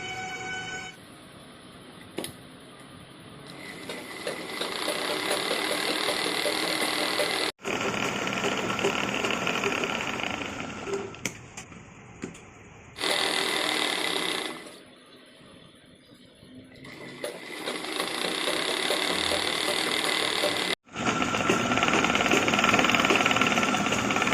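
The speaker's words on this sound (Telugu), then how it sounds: "మీద ఈ లైనింగ్ను పెట్టుకొని మనం ఇలా 4 పక్కలుగా కుట్టుకోవాలి." An electric sewing machine stitches the lining of a zipper handbag in long loud whirring runs, stopping briefly between seams, with sharp clicks at the starts and stops.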